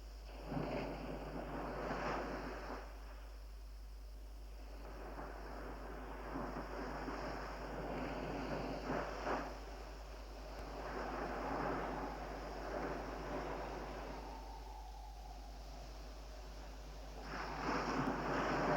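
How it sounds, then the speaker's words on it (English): Wind blowing at dawn, a sound effect from the 1975 film Moses, rises and falls in soft, breathy gusts. It stays faint and distant over a steady low rumble, with no voices. "Wind is blowing out of the dawn."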